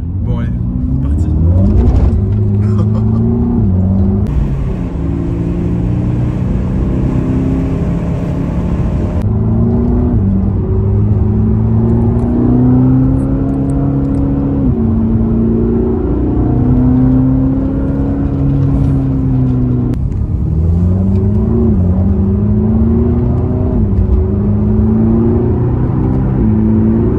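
A Mercedes-AMG GT Black Series accelerating, its engine a steady deep roar and rising rumble heard from inside throughout, with someone talking over it.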